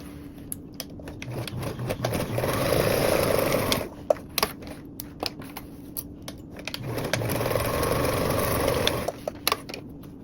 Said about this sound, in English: we're going to sew both of our now short edges with a 1/4 seam allowance